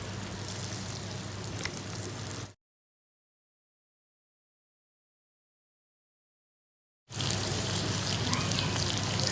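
Sambal goreng paru, a coconut-milk chili sambal with lung, sizzling as it is stirred and fried in a pan: a gentle, steady crackle drops to complete silence for several seconds, then returns. No one speaks.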